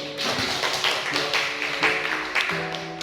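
Classroom applause breaks out as a group of students claps, a scattered patter of hand claps over about three seconds with a voice faintly audible underneath.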